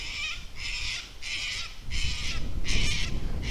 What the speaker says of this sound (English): We've upset a cockatoo.